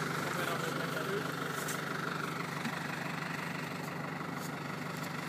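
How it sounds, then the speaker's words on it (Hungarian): A New Holland tractor engine idles in a steady low rumble, fairly close and continuous, with faint background chatter around it. "Teszteljük a traktort."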